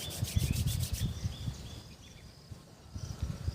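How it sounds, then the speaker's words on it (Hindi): Palms rubbed briskly together during a yoga session, a close, dry brushing friction in quick strokes that eases off midway and picks up again at the end. "हाथों को रब करना इस प्रकार से"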